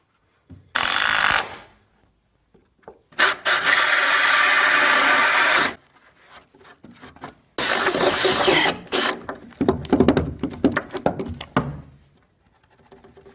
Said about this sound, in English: I had to change bits from this spade, so I went and grabbed a Forstner